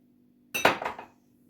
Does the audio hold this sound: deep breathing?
no